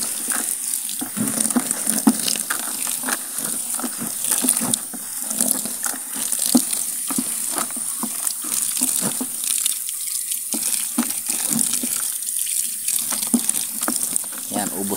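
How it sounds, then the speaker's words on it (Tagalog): Water splashes and trickles onto a mushy mix of animal feed and leaves, with wet stirring and crunching sounds close by, fairly steady throughout. "So lalagyan natin to ng konting tubig."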